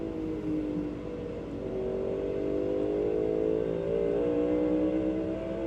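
Race cars accelerating on a short track during all-star heats, a steady layered engine drone rising in pitch as several cars pull away together, loud and continuous with no talk over it.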